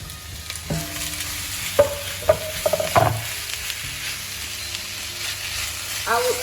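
Vegetables and chili peppers sizzle in a stir fry pan alongside beef and goat meat, a close steady hiss broken by several sharp clinks and scrapes of stirring, with no talk.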